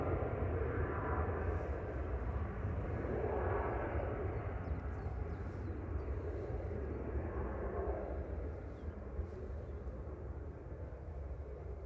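A jet at Manchester Airport roars as a broad, continuous rumble, loud and sustained for the whole stretch, swelling and easing slightly as it passes, with no voices over it.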